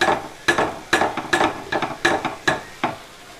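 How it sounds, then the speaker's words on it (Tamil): Paneer sautéing in a pan for a sandwich, a series of about eight sharp, close spatula knocks and scrapes at a regular pace over a faint sizzle. "பன்னீர் நல்லா வதங்கிடுச்சு."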